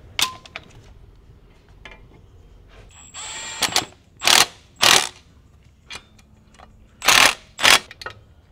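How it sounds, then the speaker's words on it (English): A torque wrench tightening clutch bolts on a transmission during an R154 or W58 gearbox swap, heard as a few loud separate ratcheting and clicking bursts with short mechanical rattles between them. "So we're torquing these to 54, and then the clutch itself gets torqued to 14."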